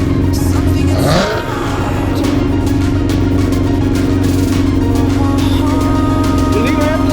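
A car revving hard at a Cars & Coffee Sunday cruise meet, loud and close, the engine note sweeping up and holding a strong steady drone, with voices calling out over it.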